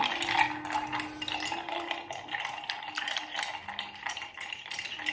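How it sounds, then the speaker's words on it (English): Ice clinks and rattles as a bar spoon stirs a small pour of Lillet around a glass for a gin martini, a steady close swirling with light metallic and glassy taps throughout. "I'm just going to stir that around over my ice, just to coat it basically."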